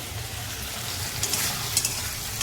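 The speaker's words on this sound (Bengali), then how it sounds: "এটাকে একটু ভালো করে নেড়ে নিই" Chili chicken sauce is stirred in a pan, with soft continuous sizzling and faint scraping strokes, a few light clicks near the end, fairly quiet and with no talking.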